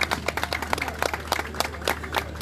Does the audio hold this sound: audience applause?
yes